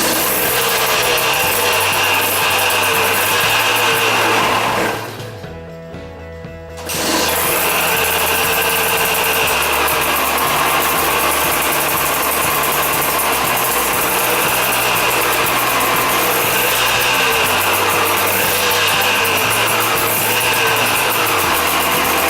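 Rebuilt KTM 200 motorcycle engine running, a steady loud close idle with a cyclic pulsing note, briefly dipping and cutting out near the start before picking back up.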